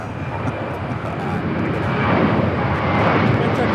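A fixed-wing airliner arriving at Los Angeles LAX airport, a broad engine roar that swells steadily louder as it approaches, with voices talking underneath.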